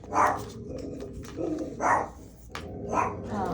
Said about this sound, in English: my bulldog likes to talk. She whines more than she barks